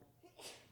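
A single short sneeze from someone in the audience at a cybersecurity conference talk, fairly faint and quick, with no speech over it.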